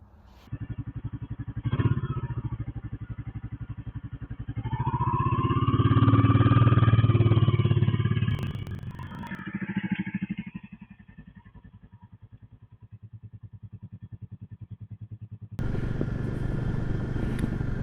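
A Cub motorcycle engine idles with a steady thrum, then revs up and climbs through a smooth rising drone before easing back; near the end, broadband wind rush takes over as it moves off.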